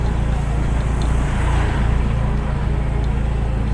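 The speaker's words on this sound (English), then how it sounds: "There are so many cars coming." Cars drive along a street in Kuta, Bali on a rainy day, making a loud, continuous roadway rumble as vehicles pass close by one after another with a steady engine drone.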